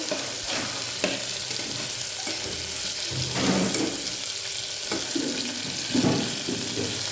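Curry leaves crackle and spatter in hot oil during khichdi cooking, a dense continuous sizzle with scattered louder pops and stirring clatter, close and fairly loud with no talking.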